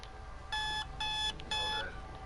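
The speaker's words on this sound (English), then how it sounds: "The alarm went off far too early for my liking" An alarm clock goes off with three bursts of rapid electronic beeping, evenly spaced and fairly loud over a quiet background hum, with no talking.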